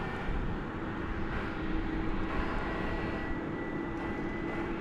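An Airbus A330-300, a ten-year-old jet bound for Madrid, takes off at night from runway 18 left at DFW, its engines a steady, broad roar that holds at a constant level throughout with no voices.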